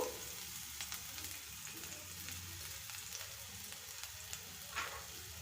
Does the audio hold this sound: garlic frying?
yes